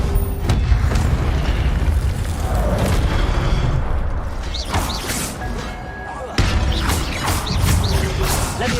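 A fiery Incendio spell blast in the video game Hogwarts Legacy, a loud booming burst over continuous crackling game effects, with a sharp cut and second surge of impact noise.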